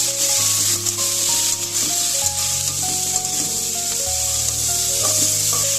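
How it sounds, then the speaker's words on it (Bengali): Cauliflower florets with salt and turmeric fry in a pan, giving a loud, steady, close sizzle throughout with faint stirring and a tonal melody underneath. "এবার আমি এটা একসঙ্গে ভাজা করে নেবো কিছুক্ষণের জন্য"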